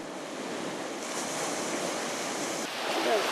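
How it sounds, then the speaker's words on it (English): Waves wash ashore on a beach of crushed shells in Georgia, giving a soft, steady rushing surf at moderate distance, with a slight swell in loudness near the end and no voices. "washed ashore by the waves."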